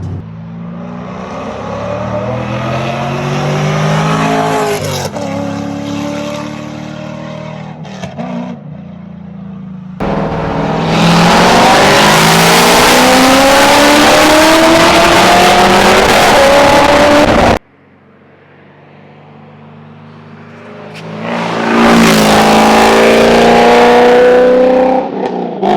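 A C5 Corvette fitted with Speed Engineering headers revs hard in several loud bursts. The engine note climbs and falls in long sweeps, with a short pause before a final rising run.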